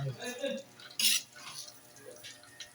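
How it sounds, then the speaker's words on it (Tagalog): Vegetables are mixed into pancit noodles in a pan, with light scraping, clinking utensil strokes and one sharper metallic clatter, plus soft bits of voice in the background. "Yan, minix na lang gulay."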